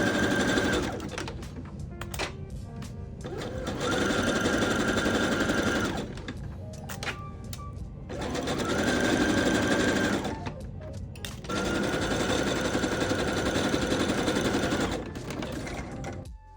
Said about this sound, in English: I'll be using a zigzag stitch on my sewing machine